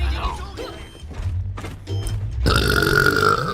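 A drawn-out cat burp with rough, gurgling texture, followed by a brighter mechanical whirring sound; no talking.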